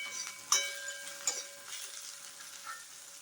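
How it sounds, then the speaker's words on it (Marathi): Okra (bhindi) sautéing in oil over a very low gas flame, a soft steady sizzle broken by a few light clicks of a spoon against the pan. "अशी तेलात चांगली परतून आधी शिजवून घ्यायची"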